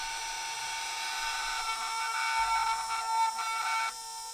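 A small RC sensored brushless motor spinning at full throttle on a test setup, giving a steady high-pitched whine at moderate level that changes slightly near the end.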